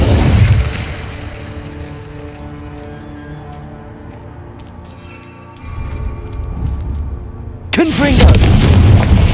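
The Incendio fire spell is cast in Hogwarts Legacy on Xbox Series S: a loud burst of flame opens, a sustained rumbling roar with ringing tones follows, and a second heavy blast lands near the end.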